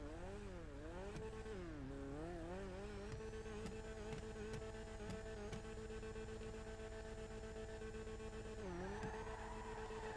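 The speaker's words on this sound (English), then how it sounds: "I was quiet there for a second whilst the car was revving its engine" A sports car engine in the racing game GTA Online revs continuously for about ten seconds, its pitch swooping up and down in waves before settling into a steady high drone, loud and alone with no talking.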